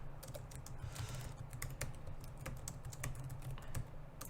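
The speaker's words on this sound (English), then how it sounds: "I'm typing things in. You can probably hear it" Quiet, continuous clatter of keys on a computer keyboard, typed rapidly and steadily at a desk with no voices over it.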